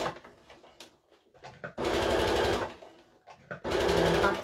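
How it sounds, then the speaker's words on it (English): Sewing machine stitching a quarter-inch seam around a fabric bottle and can holder, with two loud sustained bursts of fast even stitching, separated by quieter handling and clicks. "And then sew all the way around."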